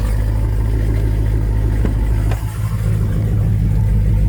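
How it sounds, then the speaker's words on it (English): Cold start of a Chevrolet Camaro fitted with a Corsa exhaust, a loud steady deep rumble with a brief rev blip midway, close and without talk. "Somewhat of a cold start. It's got Corsa exhaust."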